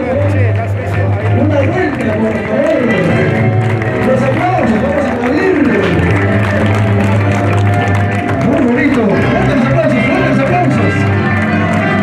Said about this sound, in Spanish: Los aplausos, vamos a aplaudirle.